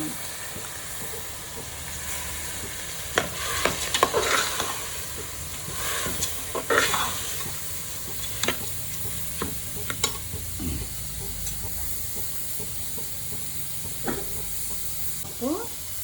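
Haleem of lentils and wheat simmers in a pot, with a low steady bubbling hiss broken by sharp scrapes and knocks of stirring, while a voice talks over it.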